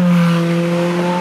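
Ferrari 430 Scuderia engine pulling hard while driving, a loud steady high-pitched drone with strong harmonics heard close from inside the car, held alone without talk.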